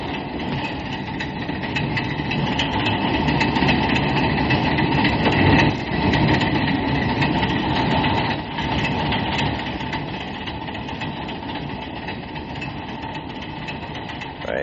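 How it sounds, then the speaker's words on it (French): A metro train pulls into a subway station with a loud, sustained low rumble and rolling mechanical drone, a brief surge near the middle, then settling steadily. "voici justement une rame de métro qui arrive"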